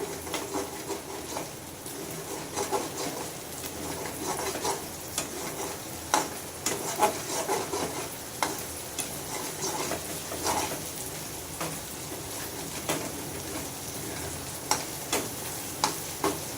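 Steady frying sizzle of egg in a pan with scattered small pops and scraping stirs, close by, no voices.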